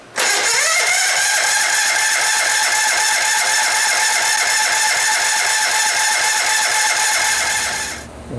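A goofy cart's small engine is jump-started off the lift in a workshop, then keeps running in a loud, steady rapid chugging idle with a harsh high-pitched whine. It holds for about eight seconds before cutting out at the end.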